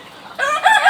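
A golden black-breed rooster on a poultry farm crows close and loud, one short rising call breaking in after a quiet moment.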